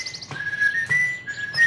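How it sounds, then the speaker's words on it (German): A girl in an audio drama fairy tale whistles a cheerful little tune, a few clear, bright phrases with short pauses, close and alone without speech. "Fröhlich pfiff sie ein Liedchen vor sich hin"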